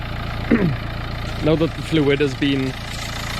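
A Nissan Juke engine idles during a DPF cleaning job, a steady low hum running evenly throughout while someone talks over it.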